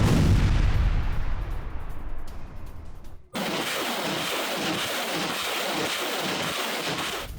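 Russian artillery and rocket fire over Donetsk: heavy, deep booming rumbles for a few seconds, then a sudden shift to a dense, sustained roar of distant barrage noise, with no voices.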